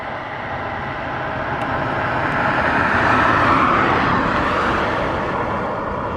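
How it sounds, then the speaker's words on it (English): A car passes along a road at night, its engine and tyre noise swelling steadily as it draws near, peaking at close range, then easing slightly as it goes by, with no talk. "We've got a car coming."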